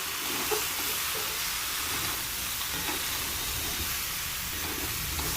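Blanched raw mango pieces sautéed and stirred in a pan for pickle, a steady broadband sizzle with soft scraping stir sounds throughout, close and continuous with no talking.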